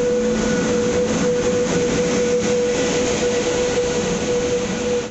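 A train stands at or pulls into an Indian railway station platform, with the Somnath Express on the adjacent track: a steady loud rumble and hum with a constant tonal drone and no pauses.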